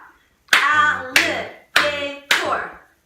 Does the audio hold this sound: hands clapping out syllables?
yes